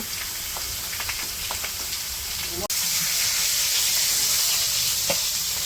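Fish coated in turmeric and chili fry in hot oil in a village kitchen, giving a steady, close, rain-like sizzle with scattered pops, a brief click midway, and the frying growing slightly louder afterward.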